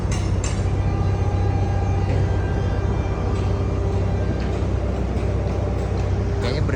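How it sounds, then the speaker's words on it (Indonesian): Local train at Purwakarta station in light rain, a continuous low rumble and rattle of rolling stock with faint squeals and clicks throughout. "Ini ada kereta api apa ini? Kereta api lokal kayaknya sini."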